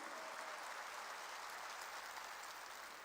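A church congregation claps together in a steady, dense wash of applause that stays fairly distant and even for the whole moment, with no voices over it.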